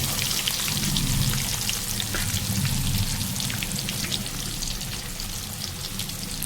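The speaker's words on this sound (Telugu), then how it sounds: "నాకు చేపల ఫ్రై అంటే చాలా ఇష్టము, అందుకోసం ఫ్రైనే చేస్తున్నాను" Fish frying in a pan of oil for a village-style fish fry, a dense continuous crackling sizzle like steady rain, close and even throughout with no talking.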